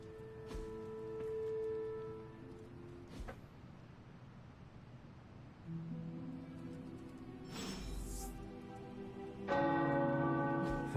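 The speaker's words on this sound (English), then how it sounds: "The tower bells are ringing." Tower bells ring in the video game Marvel's Midnight Suns, with sustained tonal strikes that decay and restrike over several seconds amid background music and a low rumble.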